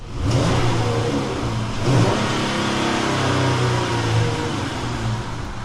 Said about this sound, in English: let's do a quick little acceleration and rev test while we're at it